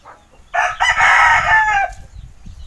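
A rooster crows once, loud and close, a single drawn-out call with low background rumble before and after.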